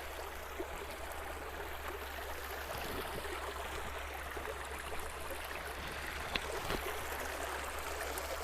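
Water in a stream flows on a cycling route in Hormozgan, Iran, a steady, soft rushing wash that stays even throughout with no voices.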